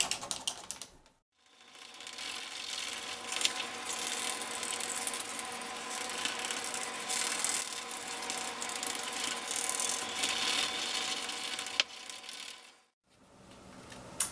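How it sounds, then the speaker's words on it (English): A burnishing tool rubs steadily over the inside of a handmade leather phone case, giving a continuous close scraping friction that runs for about eleven seconds with a brief pause near the start and end. "I'm going to go ahead and use this burnishing tool on the inside"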